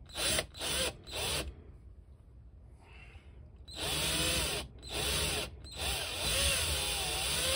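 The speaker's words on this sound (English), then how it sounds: "I reckon I'll drill a hole." A handheld power drill boring a hole during a custom action-figure build, running in several short loud bursts with brief pauses and a quieter gap in the middle, the motor whine rising and falling with each trigger pull.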